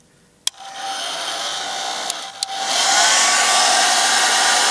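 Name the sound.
blow dryer heating windshield tint on low heat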